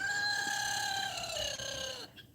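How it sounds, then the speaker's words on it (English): A laughing rooster's long crow holds steady for about two seconds before trailing off, loud and close, with faint farmyard noise underneath. "That's the laughing roosters, if y'all can hear them."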